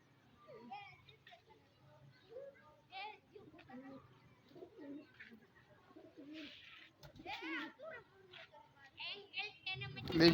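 A pigeon coos softly in short bursts while being coaxed indoors in wet surroundings, with children's voices and chatter audible nearby.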